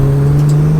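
A 700BHP Nissan Skyline R33 accelerating hard, a loud, close, steady engine drone that holds one strong tone for the whole short burst.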